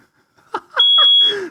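A smoke alarm with a flat battery lets out one short, high electronic chirp, close and fairly loud, overlapping brief bursts of nearby voices.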